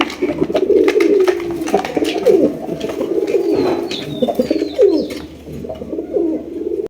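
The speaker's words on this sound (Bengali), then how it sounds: "এখানে রয়েছে একজোড়া গিরিবাজ কবুতর।" A pair of Giribaz pigeons coo repeatedly at close range, their low rolling calls layered with soft chirps and rustling from nearby birds.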